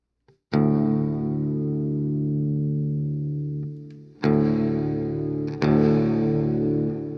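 Electric guitar chords played through a Boss reverb pedal ring out and sustain with a long decaying tail, struck three times with pauses between, loud and alone.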